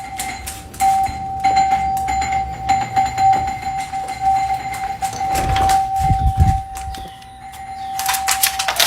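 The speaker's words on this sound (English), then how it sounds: "her doorbell was getting freaking spammed" A doorbell chime rings over and over in rapid succession, with some clattering and rustling noises in between.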